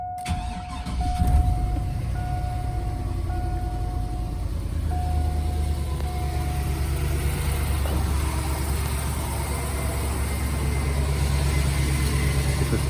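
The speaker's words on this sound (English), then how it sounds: "2003 GMC Sierra 1500 HD. So this has a 6-liter dual exhaust on it." A 2003 GMC Sierra 1500 HD with the 6.0L engine idles on a cold start through its all-factory dual exhaust, a steady, close, low rumble holding evenly after a brief start, with no talk.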